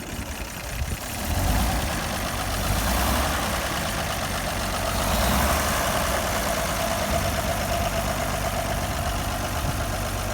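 The engine of a 1930 Buick pickup truck runs again after a fuel pump install, a loud, steady close idle that swells as it is revved, with no talk over it.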